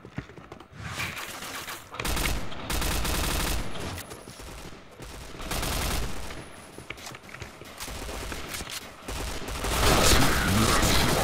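Rapid bursts of gunfire fill a shooter video game during a headshot-mode match, loud and sustained with repeated volleys and booms, while a voice briefly shouts over the shots.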